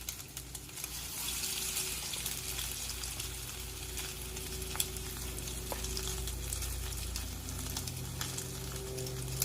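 Food frying in a pan with about eight pieces placed in, a steady close sizzle and crackle with occasional small pops, no talking.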